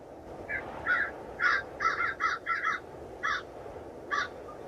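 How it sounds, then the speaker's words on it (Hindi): Cartoon crows cawing near a house, a series of about nine harsh caws, some in quick clusters and others spaced out, over a low steady background hiss. "कालू कौवा और गौरी कौवी घर के पास पहुंचते हैं"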